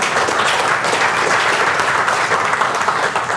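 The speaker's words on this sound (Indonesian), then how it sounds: "Tepuk tangan buat kita semua sekalian ya." Loud, dense applause from a sizable audience at an Indonesian marketing-plan seminar fills the whole stretch, a continuous patter of many hands clapping without speech.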